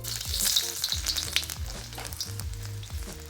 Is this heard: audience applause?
no